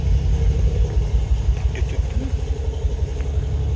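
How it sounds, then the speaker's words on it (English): An Autozam AZ-1 with a Keisport ECU idles in a cold garage, a steady low engine rumble held close and even throughout, with no talking. "Car seems to be running okay."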